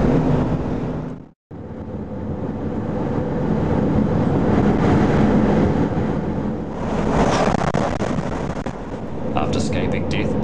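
A huge road train truck roars past on an Australian highway, a loud broad rushing drone that cuts out briefly, then swells back and holds for several seconds before easing.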